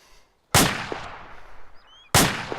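Gunfire at a shooting range, two sharp loud shots roughly a second and a half apart, with faint background noise between them.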